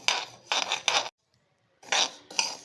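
Urad dal and rice dry roasting in a pan make short bursts of gritty rasping and rattling as the spoon stirs them, separated by a brief quiet pause.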